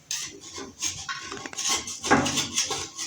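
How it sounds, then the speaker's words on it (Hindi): Knife scraping and prying namkeen kulcha breads loose from a metal pressure cooker while making Muzaffarabadi Kashmiri kulcha, a busy run of close metallic scrapes, clinks and taps without speech. "इस तरह सब कुलचों को उखेड़ना है कुकर से"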